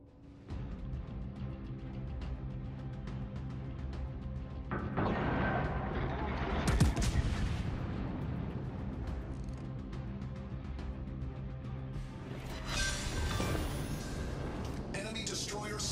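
Heavy naval gunfire in a warship combat video game, deep booming salvos and crashing impacts swelling in two loud waves over a constant engine-like rumble, with voice commands heard over the action.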